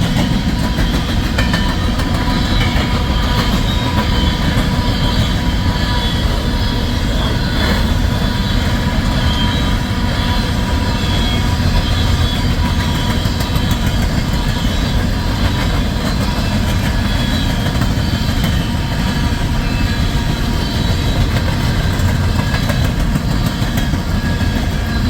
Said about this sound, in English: empty coal drag heading westbound onto the Creston Sub here at Pacific Junction.